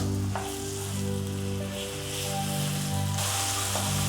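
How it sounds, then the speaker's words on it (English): Onions sizzle steadily in a hot pan while cooking prawn biryani, a continuous crackling hiss with a few faint clinks of stirring. "The onions are frying for a couple of minutes."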